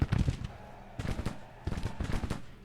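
Rapid bursts of gunfire and heavy booms from a Civil War battle in the strategy game Grand Tactician, coming in three dense clusters with brief lulls between them, loud and close with no talking.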